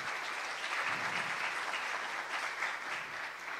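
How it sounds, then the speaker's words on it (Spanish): A room at an Internet governance forum applauds its panelists with steady, moderately distant clapping that holds evenly for a few seconds. "un aplauso para nuestros panelistas"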